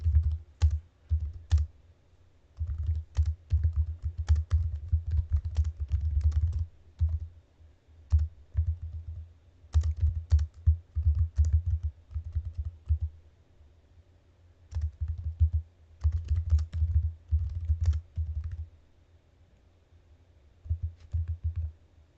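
Rapid bursts of typing on a computer keyboard, clicky keystrokes coming in clustered runs separated by short pauses, close and fairly loud with no talking.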